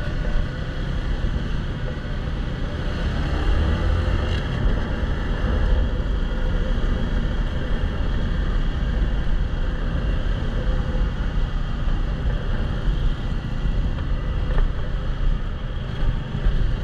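A fire pump motor runs steadily at a land fire, a continuous loud engine drone with dense low rumble and no pauses, heard alone without talk throughout.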